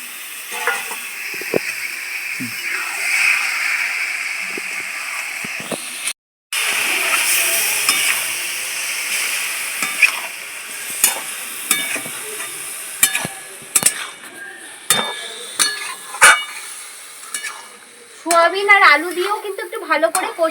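Soya chunks sizzle and hiss steadily in a hot frying pan while being stirred, with scattered scrapes and clinks of a spoon against the pan and a brief silent break partway through.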